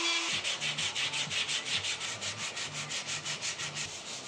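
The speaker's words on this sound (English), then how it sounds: "I smoothed out the joints with a rotary tool and then hand sanded it" Walnut wood is hand sanded with quick, even back-and-forth strokes, a close, steady scratchy rubbing rhythm with no talking.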